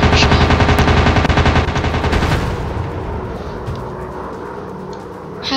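Rapid machine gun fire rattles from a fighter plane in the Warplanes video game, a loud dense burst lasting about two seconds before fading into engine drone and scattered quieter shots.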